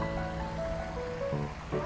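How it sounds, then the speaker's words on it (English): Babbling brook in a virtual nature scene, a steady watery rush with low gurgles and a faint tonal hum running through it, continuous and moderately quiet. "The sound of the babbling brook"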